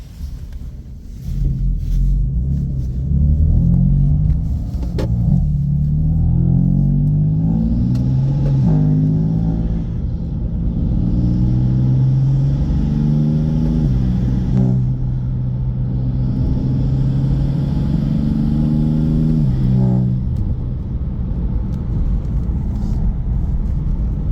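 BMW M4 F82 with S55 engine and an aftermarket induction kit on the road, loud rumbling engine with repeated rising revs through the gears, steady cabin drone between pulls.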